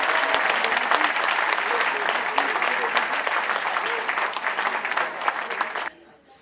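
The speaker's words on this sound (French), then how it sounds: "On les applaudit bien fort" Audience applause fills a cabaret revue hall, a dense steady clapping that carries on loudly and cuts off near the end.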